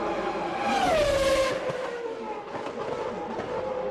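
McLaren Formula 1 cars of 1998 on Bridgestone tyres racing around the track, a high engine whine that sweeps down in pitch as a car passes, then a steadier, fainter race drone.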